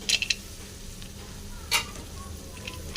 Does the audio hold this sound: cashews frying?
yes